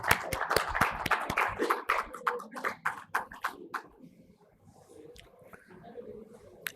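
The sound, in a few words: audience applause at a panel session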